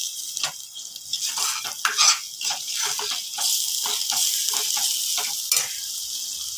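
Spices for palak paneer frying in a pan while being stirred, a steady sizzle broken by repeated scraping and rattling strokes of the spoon against the pan.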